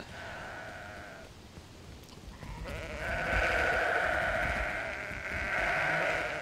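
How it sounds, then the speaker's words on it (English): Sheep in the video game Sudeki bleat repeatedly over a steady ambient game backdrop, with overlapping nasal calls growing louder and denser in the second half. "It's a lot of sheep."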